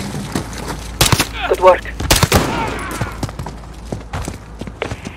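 Bursts of gunfire in the Call of Duty Vanguard Urzikstan mission: sharp close shots cluster around the first and second seconds with lighter cracks and footsteps after, while a voice speaks briefly.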